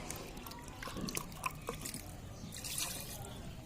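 About one and a half glasses of water poured into a pressure cooker holding tripe, heard as a faint trickle with scattered drips and splashes in a quiet village kitchen.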